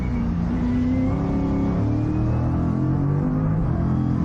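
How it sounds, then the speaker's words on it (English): An Innovation Race Car engine at Mallala backs off on track, a loud continuous droning drone with shifting pitch, close and steady without a voice. "You can just hear the motor backed off, can't you?"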